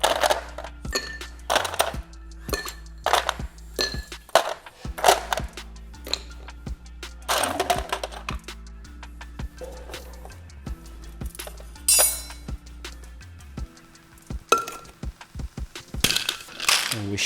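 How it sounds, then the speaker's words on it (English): Ice is scooped into a cocktail glass, producing repeated bright clinks and clattering cube impacts in irregular bursts, close and loud, with scraping of the scoop between them. "So scoop of ice in the glass."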